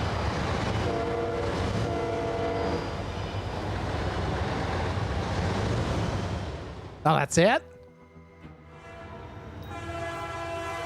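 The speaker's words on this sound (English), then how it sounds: "That was the train that was honking this whole time." In the cargo port video game Docked, a train rumbles and clatters along with repeated horn blasts over it, then a sharp sweeping whistle-like burst near the end before quieter horn tones. A person speaks briefly over the train noise.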